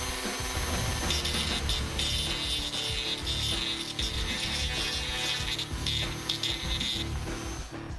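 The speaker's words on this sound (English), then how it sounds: "you can use a rotary tool and grind a V-groove like we did here" A rotary tool grinding a V-groove into a cracked nylon plastic radiator tank, a continuous close, loud abrasive whine and rasp with slight shifts in pitch as the bit works the plastic.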